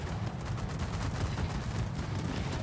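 Dense, continuous anti-aircraft gunfire from a warship in a naval video game forms a loud, unbroken rattling roar of overlapping shots with no pauses or voices.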